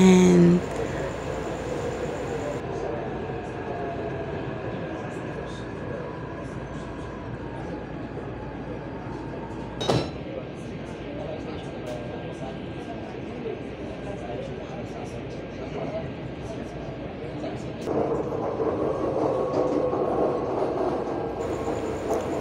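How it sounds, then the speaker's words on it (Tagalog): Inside a moving train in Taiwan, a steady low rumble and rattling hum continues throughout, with a sharp clunk midway and rising noise near the end, under talk. "So, ayan ang loob ng train"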